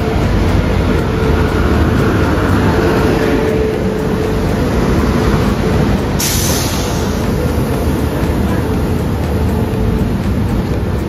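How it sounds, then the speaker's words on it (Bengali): The 12821 Dhuli Express on the Kolkata to Puri route pulls into Santragachi station as a loud, steady rail rumble with rolling wagon clatter and no talking over it. "সো ফাইনালি দেখতে পাচ্ছ ট্রেন কিন্তু আমাদের ঢুকে গেছে"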